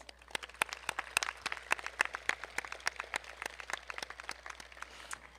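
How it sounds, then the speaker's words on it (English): A round of clapping fills a 2023 Highland commencement ceremony, many sharp individual claps in a fairly quick, uneven patter, moderately faint and without voices. "Let's give her another round of applause."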